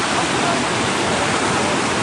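Floodwater rushes in a steady, loud broadband roar with no pauses, a continuous torrent close at hand during the 2022 floods in Dera Ismail Khan.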